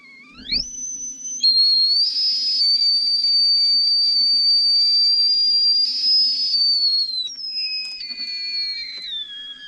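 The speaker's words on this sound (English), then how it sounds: "Whistle, whistle, kettle." A kettle on a Trangia-style stove whistles loudly and steadily, a high shrill tone rising at first, holding for several seconds, then wavering and splitting near the end.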